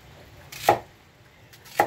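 Two sharp knife chops through an onion being cut into wedges on a board, close and distinct, about a second apart, with quiet between them.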